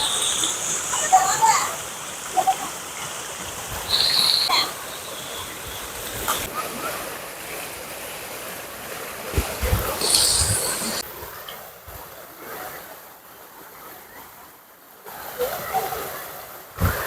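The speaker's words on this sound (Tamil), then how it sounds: "இதுதாங்க ஓட தண்ணி." Stream water flowing and splashing at Puliyancholai village in Trichy district, Tamil Nadu, a continuous rushing wash with bright splashes, heard under someone talking and occasional children's voices.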